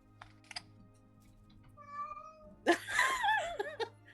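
A cat lets out a drawn-out, wavering meow, loud and close, after a few quieter soft sounds in a calm room.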